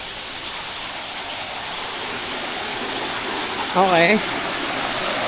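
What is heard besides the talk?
Tumagiti Falls waterfall rushing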